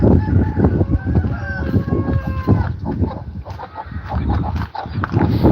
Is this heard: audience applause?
no